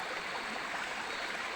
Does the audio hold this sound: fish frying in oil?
no